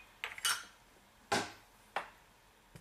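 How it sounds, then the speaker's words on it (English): A spoon stirring sugar into water in a container, four sharp clinking taps spaced irregularly, close and fairly quiet, with no voice. "Give it a little stir until the sugar dissolves."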